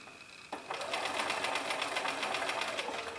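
A sewing machine stitches a body seam through fabric on a cloth cat, starting after a brief quiet moment and then running steadily with a fast, even whirring rhythm, close and clear with no talking.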